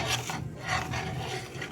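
A spoon scrapes and rubs steadily through a thickening sugared sweet mixture with dried fruit in a pan, a close rasping stir repeated in short strokes.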